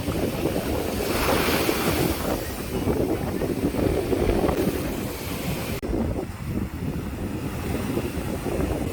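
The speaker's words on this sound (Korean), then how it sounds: "파도 온다, 파도 온다, 파도 온다. 아 파도. 파도가 세다." Ocean waves breaking and rushing continuously on the coast at Yangyang, Gangwon-do, South Korea, a loud churning roar mixed with heavy wind buffeting the microphone.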